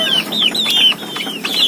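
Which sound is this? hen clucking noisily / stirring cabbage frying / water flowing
hen clucking noisily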